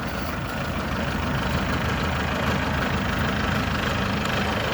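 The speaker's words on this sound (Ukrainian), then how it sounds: "Чотирьохциліндровий дизельний двигун. Тракторець." A four-cylinder diesel engine in a small tractor with a 12+12 reversing gearbox idles steadily, a dense low rumble that holds even and loud throughout with no speech over it.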